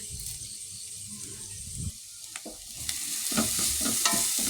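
Curry leaves sizzle and crackle in hot oil in a frying pan with shallots, green chilies and garlic, stirred with scattered scraping clicks, steady and close throughout.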